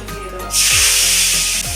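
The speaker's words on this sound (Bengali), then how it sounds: "এবার তেলটার মধ্যে দিয়ে দেবো আদা রসুনের জুস" Ginger-garlic juice hits hot oil left from frying pomfret, bursting into a loud, steady sizzle that carries on close up for over a second after a short quieter stretch.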